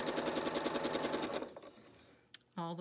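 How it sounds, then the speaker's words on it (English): A sewing machine stitching a fabric triangle onto a quilt block with a quarter-inch seam, running in a fast regular rattle for about a second and a half, then stopping, followed by a brief click and a short restart. "now it's time to sew a triangle on the other side"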